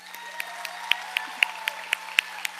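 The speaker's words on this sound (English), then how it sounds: "will you please help me give a big round of applause to our August Gold Star, J.C. Moton" Thin, evenly spaced claps at a parish school board meeting honoring a Gold Star award recipient, roughly ten separate claps in a steady beat over a low hum, near and fairly quiet.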